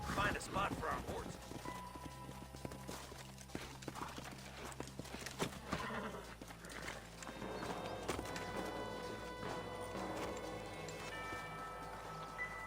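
Hooves clip-clop in a steady trot alongside a horse's whinny in Red Dead Redemption, with someone talking over background music and ambient game sounds.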